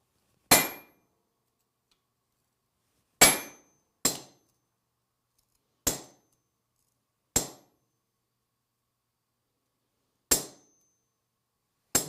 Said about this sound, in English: The next step is to stamp the maker's mark.